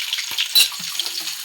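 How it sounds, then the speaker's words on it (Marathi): Chopped onion hits hot oil already holding cumin and mustard seeds, giving a steady close sizzle with a brief louder burst as it goes in, then settling into continuous frying hiss. "नंतर आता कांदा सोडलेली आहे कांदा सोडते"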